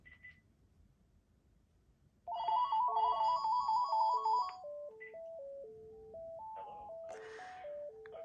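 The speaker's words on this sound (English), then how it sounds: "So if we have a call come in here" A cordless phone rings with an incoming call, a loud electronic melody of stepped tones that starts abruptly and repeats close by, with a softer beep just before it.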